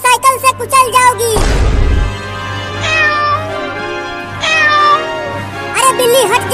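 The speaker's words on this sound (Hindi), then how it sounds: "अरे बिल्ली हट जा, तू ये क्या कर रही है?" A cat meows several times up close, loud drawn-out cries with pauses between, with a short burst of rustling noise early on.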